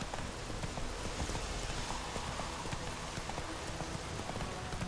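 In The Witcher 3, a horse's hooves clip-clop in a steady walking rhythm, faint and soft beneath a constant hiss of falling rain.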